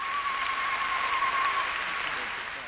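A big hall of about 1,300 religious formators gives the Pope a long ovation, dense applause and cheering filling the room, steady and loud before easing slightly at the end, with a faint whistle-like tone early on.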